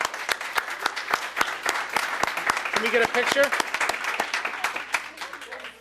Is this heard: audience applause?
yes